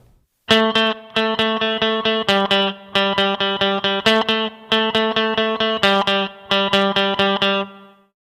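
Reggae rhythm guitar chords ring out with root notes repeated in fast, even 16th-note bursts, grouped in short clean phrases separated by brief gaps, loud and close.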